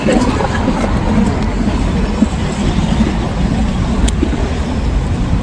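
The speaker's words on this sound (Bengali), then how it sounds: "আমি গাড়ি এখানে পার্কিং করছি" A car being driven and then parked, with a steady, loud rumble of road and engine noise filling the whole stretch and no break, in rainy weather.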